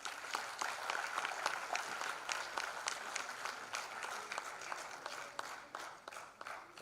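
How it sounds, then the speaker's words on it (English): Applause from a crowd welcoming alumni guests of honor at a global alumni meet, steady dense clapping sustained throughout and tapering slightly at the end. "Please welcome them with a big round of applause."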